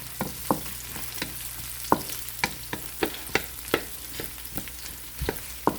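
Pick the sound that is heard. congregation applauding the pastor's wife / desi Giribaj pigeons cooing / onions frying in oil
onions frying in oil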